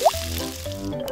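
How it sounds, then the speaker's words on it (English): Sauce pours into a miniature pan with a brief liquid splash and squelch, soft and close, under background music. "Pour the sauce in"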